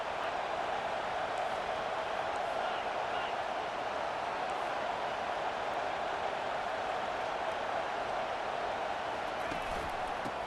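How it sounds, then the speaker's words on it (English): A stadium crowd in an EA Sports College Football 25 game roars as a loud, steady wash of noise that holds unbroken through the whole stretch, with commentary faintly underneath. "It is getting loud as this crowd tries to help its defense."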